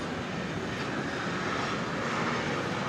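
A UPS Boeing 767 unparking at night at DFW with its engines running, giving a dense, continuous jet engine rumble and hiss that stays loud and steady from start to finish.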